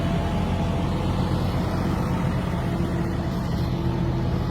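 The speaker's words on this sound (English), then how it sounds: "This is what they call their packing tractor." A heavily weighted packing tractor drives over a silage pile on a farm to compact it, its engine giving a steady, close, continuous low rumble with no talking.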